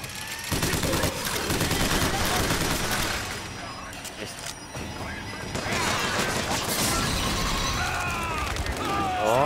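A Gatling gun in BioShock Infinite fires in long, rapid, loud bursts with crashing impacts. Between bursts there is a short lull, and someone talks over the shooting in German.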